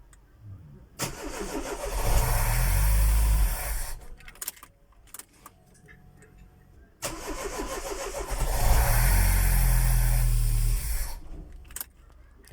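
A car engine cranks and fires twice after the fuel system is primed, each start rising into a loud, rough idle that surges for a couple of seconds and then drops away, heard up close.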